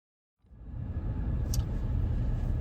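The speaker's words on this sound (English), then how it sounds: "I hate traffic." Steady road-traffic rumble heard from inside a van in Philadelphia on a Sunday afternoon, a continuous low engine and tyre drone that swells in after a brief silence and holds loud, with no talking.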